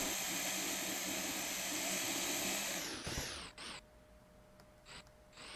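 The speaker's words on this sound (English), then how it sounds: "Driving a proper tank." A tank engine drives in Scrap Mechanic with a steady, loud, roaring drone that cuts off abruptly after about three seconds, followed by a few short mechanical bursts against a quieter background.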